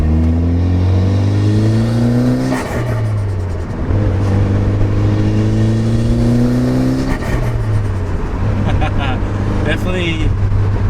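A Mitsubishi Evo with a Turbosmart blow-off valve revs hard while driving, two rising engine pulls each cut by a sharp shift and whoosh, loud and close with a rumbling cabin drone.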